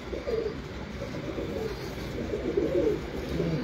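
Home-loft pigeons coo in low, rolling phrases that rise and fall throughout, close by and continuous against a mild background hum.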